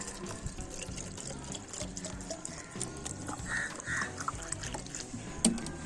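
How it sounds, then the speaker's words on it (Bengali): Cold water runs from an Aquaguard purifier into a bottle. The steady, gurgling trickle of filling continues for several seconds and is heard up close, with faint background clatter. "এবার আমি হলো এই যে অ্যাকোয়াগার্ডে জল ভরে নিই ঠান্ডার থেকে"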